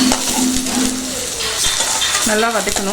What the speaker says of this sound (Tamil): அதுக்கப்புறம் வெங்காயம் வந்து நல்லா நம்ம வதக்கணும்